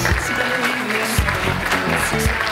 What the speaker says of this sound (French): Qui emporte ce prix ce soir, on les applaudit.